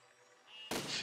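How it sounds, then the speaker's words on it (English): Cannon fire in a ship video game starts with a sudden loud blast after a quiet stretch, then a sustained rumble that stays close and full. "Let's see if I can make this stay perfectly still with two cannons."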